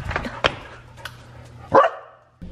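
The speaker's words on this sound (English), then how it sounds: "Come on, Liz, there's a dog." A dog barks a few times outdoors, sharp isolated yips spaced over a couple of seconds, one louder bark near the end, with light background noise and no clear talk.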